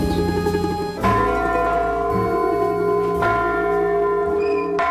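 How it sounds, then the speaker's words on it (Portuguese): Church bells of Ouro Preto, including the large bronze bell of the Nossa Senhora do Monte do Carmo church, ringing with several loud, resonant strikes that leave long humming tones overlapping and fading between blows. "o grande sino, a que o povo chama Elias, faz-se notar pelas suas proporções e pelo seu timbre, agradável e possante, que enche o vale de Ouro Preto"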